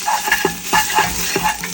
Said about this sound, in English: Next, add in your prahok, your mudfish paste, prahok. Give that a stir.